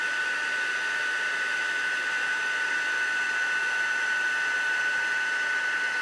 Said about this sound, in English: Okay, it's starting to melt. I'm trying to keep my gun moving.